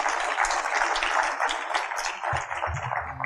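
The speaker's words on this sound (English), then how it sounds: "So give ourselves a round of applause." Conference audience applause at the RCMRD International Conference 2022, a steady dense wash of clapping filling the hall, with a low rumble or voice entering near the end.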